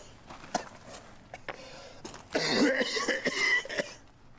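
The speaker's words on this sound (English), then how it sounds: "The coughing, man." A man coughs in a rough, repeated burst, with scattered softer thumps and rustling before it; no speech.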